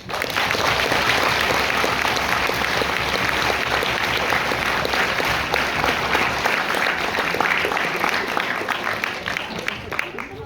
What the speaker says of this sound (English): all of our speakers deserve another round of applause